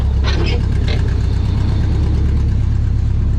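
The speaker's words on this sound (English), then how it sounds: "Still running on 4 cylinders." A 1968 Chevy Bel Air engine idles roughly on only four cylinders after sitting for eight years, a loud, steady, low rumble close by with a person briefly talking over it.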